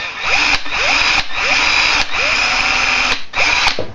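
Small, fragile drill bit boring into a Hot Wheels die-cast toy car, a steady high-pitched power-drill whine running throughout with brief dips and restarts about once a second.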